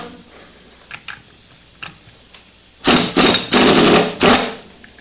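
Bursts of a tool loosening the clutch pack nut on a Honda NC or XRV750 motorcycle: four loud, close mechanical rattling blasts in quick succession after a few faint clicks.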